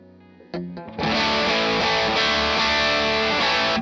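Distorted electric guitar played through an open-back amp cabinet, a few picked notes then a loud, sustained chord-heavy riff ringing steadily, close and alone without talk.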